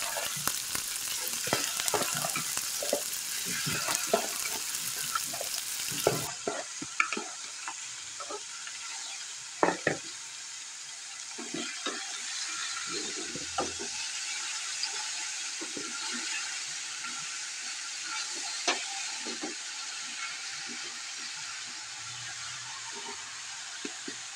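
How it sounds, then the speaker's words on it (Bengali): Vegetables frying in a pan, a continuous close sizzle lasting throughout, with scattered clinks and scrapes from stirring. No one speaks. "এখন হচ্ছে আমি ভাজিগুলো দিয়ে দিচ্ছি।"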